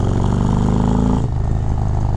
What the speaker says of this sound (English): with the Screaming Eagle exhaust on this thing, it just sounds amazing